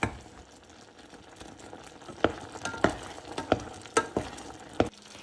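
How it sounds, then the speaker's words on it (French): An apricot butter mixture cooks over medium heat in a pan, a soft low bubbling punctuated by a series of sharp scraping clicks as a utensil stirs it, close and without talk. "nous allons cuire le tout à feu moyen pendant environ 12 à 15 minutes. Et le plus important, c'est de remuer très souvent."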